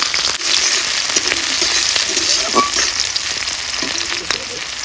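Chopped chili and onion frying in oil with nigella seeds, the pan sizzling in a steady, dense hiss from start to finish, with a few faint clicks of stirring mixed in.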